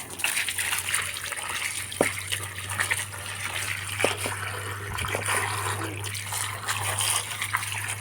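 Water splashes and runs steadily as freshly peeled bamboo shoots are rinsed clean of soil and debris, with a low steady hum underneath and occasional soft knocks.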